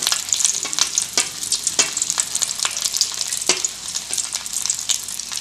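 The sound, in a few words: deep frying chicken drumsticks in oil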